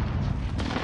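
A continuous, loud, dense roar of precision airstrike explosions in Call of Duty, with deep rumbling booms packed together so that no quiet gap is heard.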